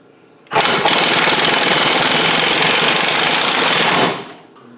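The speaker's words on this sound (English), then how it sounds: "I know I should use a black socket, an impact socket to get these nuts off." Impact wrench hammering loudly on rusty ball joint nuts of a Dodge, one continuous close burst of rapid rattling impacts lasting about three and a half seconds before winding down to quiet.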